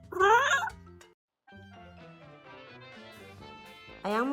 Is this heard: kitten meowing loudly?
yes